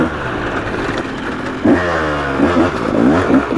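A 300cc two-stroke dirt bike engine runs at a steady idle, then snaps into several sharp, loud revs in quick succession.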